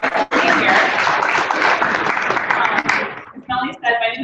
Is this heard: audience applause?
yes